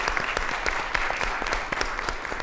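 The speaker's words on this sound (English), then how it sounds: "Can we give a big round of applause for the students?" Audience applause for students at a security scholar poster pitch-off, a steady dense clapping that fills the whole stretch with no talk over it.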